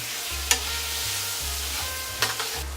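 A spoon stirs a seasoned dish with crushed red pepper in a pan over a steady low sizzle. Two or three distinct scraping strokes stand out close by, and no one speaks.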